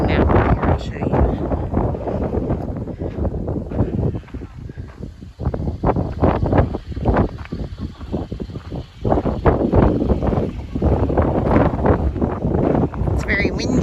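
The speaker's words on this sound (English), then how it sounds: "It's very windy. It's been windy all day." Strong wind buffets a high overlook above Lake Superior in Michigan's Upper Peninsula, roaring and gusting continuously into the microphone with loud rumbling bursts throughout.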